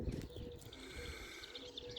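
A yearling racing pigeon hen coos softly amid faint chirps, quiet and fairly distant against low background noise at a loft.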